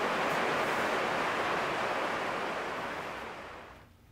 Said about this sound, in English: And it's starting to rain, so I'll probably need to take a break.